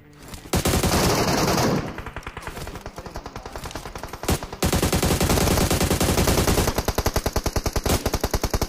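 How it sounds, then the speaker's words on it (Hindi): Heavy automatic gunfire in the mobile game BGMI, with loud, close, rapid bursts that stop briefly and then continue as steady sustained fire through to the end. "यहाँ से फायर कर रहा है"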